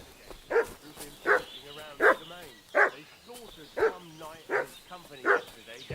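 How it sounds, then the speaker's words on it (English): A dog in the medieval role-playing game Kingdom Come Deliverance 2 barks about eight times in a regular rhythm, with whimpering between the barks, close and clear. "What's that dog making such a fuss about?"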